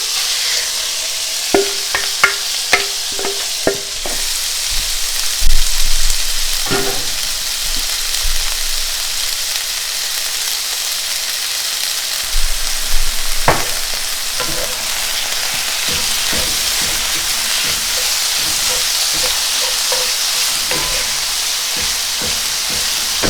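Freshly ground chicken breast and thigh frying in a pan, a continuous sizzle with repeated scraping and stirring knocks from a utensil, no talking.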